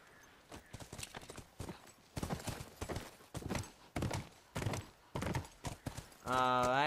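Horse hooves clip-clop at a steady walk in The Last of Us Remastered, a regular run of close, crisp hoof strikes, ending with a voice speaking over the final moment.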